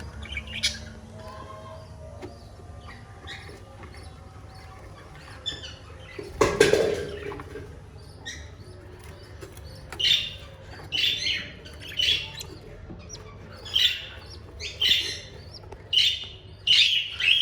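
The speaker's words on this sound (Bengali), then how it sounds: "পাখিটা কেন জানি বাচ্চাগুলোকে একটু কম খাওয়াচ্ছে" Caged birds on a rooftop bird farm chirp and squawk in short, repeated bursts. One sharp clatter breaks in partway through, and the calls get busier toward the end.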